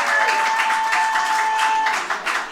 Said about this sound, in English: I would also like to give Russell a second round of applause